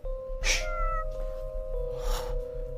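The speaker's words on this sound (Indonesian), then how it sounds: "Kucing kali." A cat meows twice, about a second and a half apart, close and fairly loud over a steady low hum.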